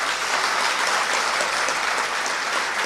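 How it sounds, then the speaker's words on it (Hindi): An audience applauding in welcome at a religious gathering in London, sustained dense clapping from a large crowd, steady and fairly loud throughout. "ताली बजाकर स्वागत करो"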